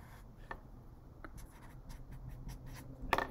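Quiet marker strokes squeaking across paper as cards listed on a worksheet are highlighted, a few short scratchy swipes over a soft room hush, with one louder, rougher stroke near the end.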